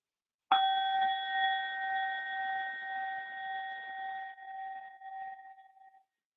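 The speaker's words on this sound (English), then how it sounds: "And I'll ring the bell to start and to end." A meditation bell is struck once to open mindfulness practice, ringing out clearly from a single strike and decaying slowly into silence over several seconds.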